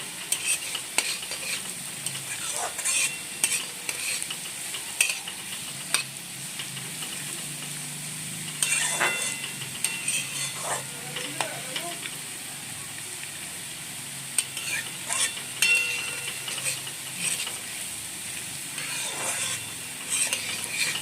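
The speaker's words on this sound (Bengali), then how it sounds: "দিয়ে ভালো করে আমি নাড়াচাড়া করে নিচ্ছি" Sugar being stirred in a hot frying pan, a continuous soft sizzle broken by repeated scraping and clinking of a spoon against the metal, close and steady with no talk.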